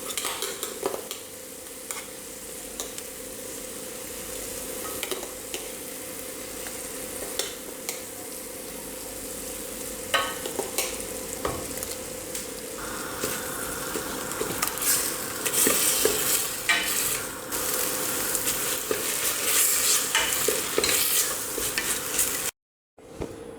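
Ground tomato being stir-fried in a pressure cooker for mutton mandi, a close sizzle with frequent metallic scrapes and clinks of a spoon, growing busier and louder before a brief silence at the end.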